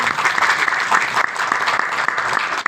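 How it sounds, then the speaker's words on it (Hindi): Brisk, loud applause from an audience at a company plan presentation, a dense burst of clapping that fills the whole short stretch without pause. "जोरदार तालियां।"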